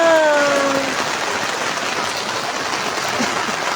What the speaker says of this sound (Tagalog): Lalo pa itong lumakas ang ulan.